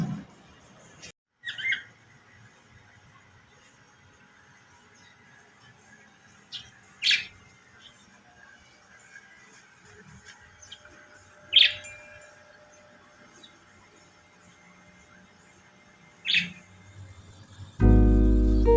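Lovebirds give a few short, sharp chirps spaced several seconds apart against a quiet background. A louder low thump comes at the very end.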